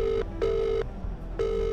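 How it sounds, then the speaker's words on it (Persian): An outgoing phone call rings through bone-conduction smart glasses: repeated electronic ring tones in short bursts with a brief pause between them, clear and close, with no voices. "Calling Nima."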